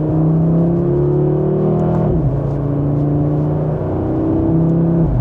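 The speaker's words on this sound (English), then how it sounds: "just with a minor acceleration, that definitely sounds really good" A 2026 Audi RS3 pulls from second gear under light throttle, its exhaust and engine holding a steady droning tone that dips briefly as revs shift, loud and continuous from inside the cabin without talk.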